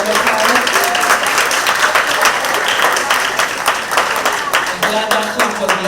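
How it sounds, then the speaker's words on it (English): Audience clapping at a children's ball held at City Hall, loud, dense applause from a full room with sharp individual claps standing out, sustained for about six seconds. "I'm glad that clap was loud"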